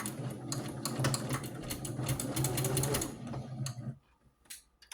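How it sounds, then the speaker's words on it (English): Sewing machine back stitching through thick layers of a pink rag quilt while joining rows, a steady close mechanical whir for about four seconds before it stops and brief small clicks follow. "I'm going to back stitch"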